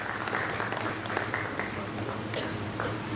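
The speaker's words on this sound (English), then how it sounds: "with a round of applause" A room of people at a school event applauds steadily, moderate in volume, with a few voices faintly audible under the clapping.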